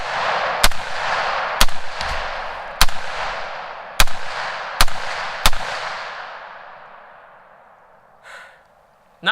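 Six loud, sharp gunshots from a rifle with a cheap eBay muzzle brake crack out at irregular intervals outdoors, each trailing off into a long echoing decay.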